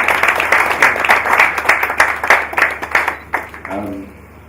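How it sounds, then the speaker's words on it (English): An audience claps for a keynote at a 2019 NSE event, the clapping dense and energetic at first, then thinning out, with a voice speaking over the fading applause near the end. "a round of applause for this keynote"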